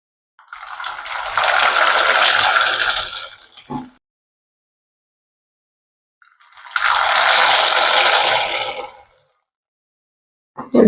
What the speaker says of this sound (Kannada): ಎಣ್ಣೆ ಕಾಯಕ್ಕೆ ಇಟ್ಟಿದ್ದೇನೆ ನಾನು. ಈಗ ಈ ಹಪ್ಪಳ ಹಾಕೋನು.